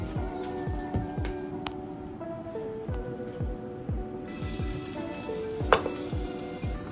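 Negi-tan-shio, salted beef tongue with scallion, sizzles in a pan with a steady crackle, close and moderate in volume, while rhythmic low clicks and a faint hum run beneath it.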